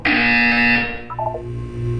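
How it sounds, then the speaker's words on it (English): A harsh electronic buzzer from the game Portal 2 sounds loudly for about a second inside a test chamber, then trails off into softer tonal blips and a low hum, with no voices. "You will hear a buzzer."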